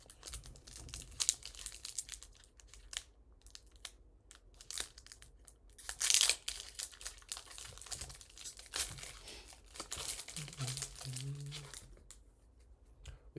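A Pokémon Obsidian Flames booster pack is torn open and handled, bringing crinkling foil rustles and sharp tearing bursts scattered unevenly across the stretch, close by, with a brief voice partway through.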